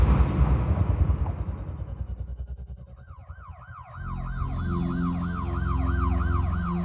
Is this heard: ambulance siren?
yes